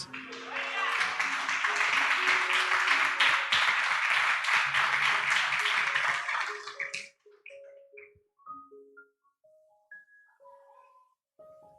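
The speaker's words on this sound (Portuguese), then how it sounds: "Dê uma salva de palmas para Jesus" Church congregation clapping in applause for Jesus during a service, a loud sustained burst with music underneath that cuts off abruptly, followed by quieter sparse sounds.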